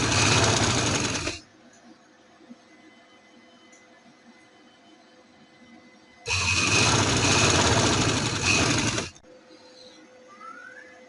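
Sewing machine stitching the plain border of a dupatta, two loud close bursts of steady whirring, about a second and then nearly three seconds long, separated by quiet room tone.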